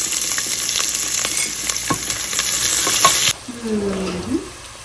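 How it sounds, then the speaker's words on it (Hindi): Spices and onion crackle loudly in hot oil for a potato dish, a dense close sizzle with stirring scrapes that cuts off sharply after about three seconds, leaving faint clatter. "थोड़ा सा इनको कड़कड़ाएंगे, इसमें से खुशबू आनी शुरू हो गई है।"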